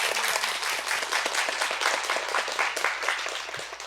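An audience at the close of an opening talk at the Seoul Wow Book Festival applauds, dense and continuous clapping from many hands filling the room at a steady level for the whole stretch.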